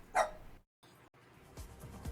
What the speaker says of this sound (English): Yeah, she's still barking.